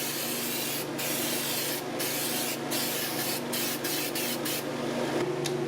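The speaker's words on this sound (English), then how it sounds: "a coat of zinc-rich weld-through primer for the flanges" Aerosol can of zinc-rich weld-through primer sprayed onto car body flanges during a 1976 Mazda RX-5 Cosmo restoration, heard as a series of short hissing bursts of varying length over a steady background hum.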